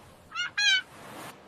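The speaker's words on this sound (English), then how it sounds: "This is a seagull." A seagull gives two short, harsh squawking calls in quick succession, fairly close and clear against a faint background hiss, with no one speaking.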